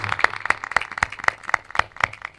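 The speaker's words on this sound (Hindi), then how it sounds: "जरा उनके लिए भी जोरदार ताली बजा देना" Audience applause at a live Hindi spiritual discourse by Asang Dev Ji: a steady run of sharp, rhythmic clapping bursts that keep a regular pulse, moderately loud and close, with no voices over it.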